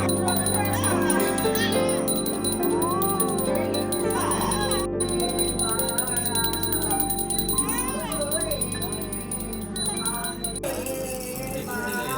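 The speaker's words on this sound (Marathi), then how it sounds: "घंटी वाजवून तिला शांत करण्याचा प्रयत्न करतात" A bell rings repeatedly at a baby's naming ceremony, rung to calm the baby, under a busy mix of voices and children's chatter, with a steady high tone running through most of the scene.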